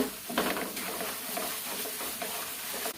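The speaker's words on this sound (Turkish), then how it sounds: "Devam ediyoruz kavurmaya." Semolina roasting in butter in a pan for halva is stirred continuously, giving a steady broadband sizzle and scraping that runs through the whole moment, fairly close and even, with no talking.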